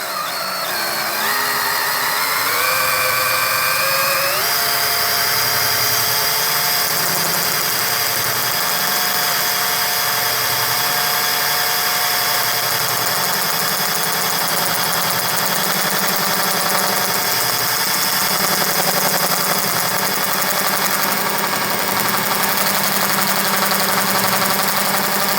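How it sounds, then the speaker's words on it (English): Power drill driving the Fleximounts GL1 garage storage lift, a loud continuous whine that rises in pitch as it spins up and then holds steady for the full stretch, with the lift's mechanism humming beneath. "So I'm gonna go ahead and get my drill on here."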